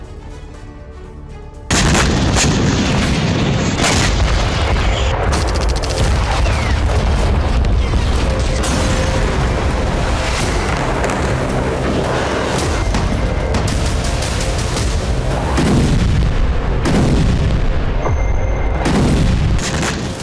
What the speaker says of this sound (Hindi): ये बगदाद के यूएस विक्ट्री बेस पर मिसाइल हमले की तस्वीरें हैं। जिसे अमेरिका के सी-रैम एयर डिफेंस सिस्टम ने नाकाम कर दिया।